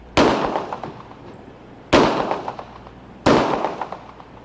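An officer fires a .40 S&W caliber weapon three times, each shot a sharp, loud crack with a short ringing decay, spaced about a second and a half apart.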